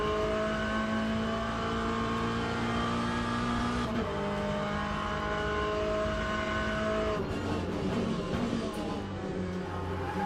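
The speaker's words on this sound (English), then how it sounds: "Hey Jack, we're in the Corvette today." Corvette LMGT3 race car in the Le Mans Ultimate sim at Interlagos, its engine droning loud and close with tonal revs that rise, drop sharply on shifts and build again, with occasional tire squeal.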